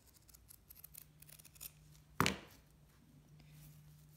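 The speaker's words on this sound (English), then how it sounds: "So I want to cut 6 pieces of burlap." Scissors make a single sharp snip through burlap fabric, a short crisp cut standing alone in an otherwise quiet room.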